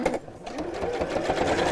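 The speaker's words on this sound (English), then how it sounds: "I'm just doing a straight running stitch all the way around" A sewing machine runs a straight stitch, a fast rapid whirring chatter of the needle that is close and continuous after a brief pause at the start.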